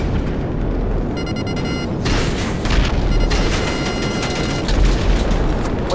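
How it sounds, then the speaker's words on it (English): Gunfire in GTA 5 on a crowded FiveM free-roam server comes as loud, booming shots and rapid bursts layered over a constant rumble, with dense clusters of reports. "Why are they shooting at me?"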